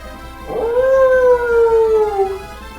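A single dog gives a long, clear howl, rising then slowly falling and tapering off over about two seconds, close and loud with no voices.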